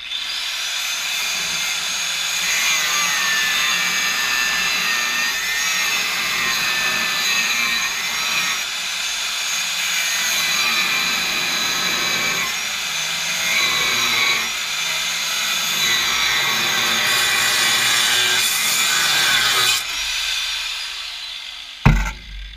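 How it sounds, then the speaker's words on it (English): A power cutting tool slices through an exhaust hanger under a car while a catalytic converter is being removed, a steady loud whine running almost without a break for over twenty seconds and ending in a sharp final clunk. "Let's cut this hanger off."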